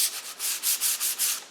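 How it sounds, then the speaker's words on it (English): Hand sanding a wooden candle box with 220-grit sandpaper: steady back-and-forth rubbing strokes in an even rhythm, close and fairly loud, with no talking. "And then I'm pretty much done with sanding."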